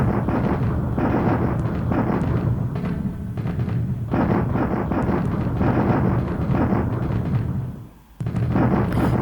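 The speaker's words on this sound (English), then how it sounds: "So again, bombardment here." An artillery bombardment rolls on in War in the Pacific, a continuous rumble of distant booms and thuds with one brief lull near the end.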